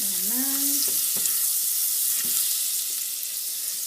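Butter melting in a pan gives a steady bright sizzle and crackle throughout, with a short spoken word near the start and a few light utensil clinks.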